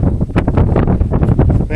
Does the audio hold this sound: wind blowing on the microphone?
yes